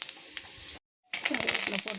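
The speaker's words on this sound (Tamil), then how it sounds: "தாளிக்கலாம். சோம்பு போட்டுக்கலாம்." Fennel seeds crackle and sizzle in hot oil while tempering for a raw banana fry, a steady bright frying hiss that cuts out briefly before resuming louder and busier.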